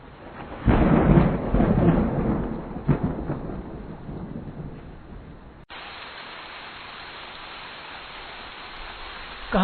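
Heavy rain and rolling thunder in a stormy night, loud and close for the first few seconds with rumbling peaks, then settling into a steady, even hiss of downpour to the end, with no voices.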